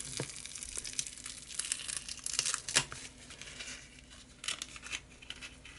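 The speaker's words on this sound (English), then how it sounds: "So I'm just going to peel this off." A handmade head cap for a doll wig is peeled off its form, giving close, crinkly tearing and crackling with sharp bursts scattered through the clip and no talking.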